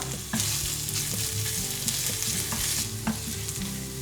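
Ginger sizzling and stir-fried in a wide wok, a steady loud frying hiss with scraping stirs throughout, close up and without talk.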